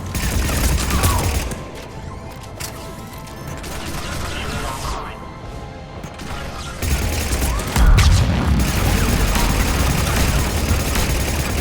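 Heavy, rumbling cannon fire and mechanical clanking in Mass Effect 3, with bursts of booming shots that rise and fall over a dense, continuous battle din.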